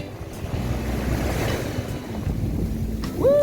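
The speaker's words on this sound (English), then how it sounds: "there goes the water. It's coming close to me" Ocean waves washing onto a sandy public beach in Mombasa, a steady rolling surf with wind buffeting the microphone, swelling slightly louder near the end, no voices.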